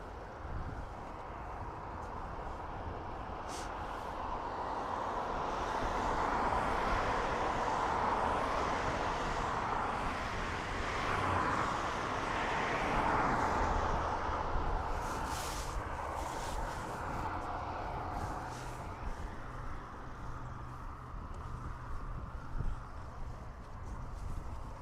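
An Aer Lingus airliner arrives at Dublin Airport. Its distant jet roar swells gradually to a broad peak midway, then slowly eases back, with no voices.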